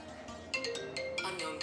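A phone ringtone chirps in a quick repeating pattern, fairly quiet, over a low room hum.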